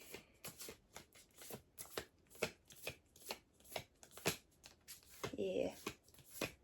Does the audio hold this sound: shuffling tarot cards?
yes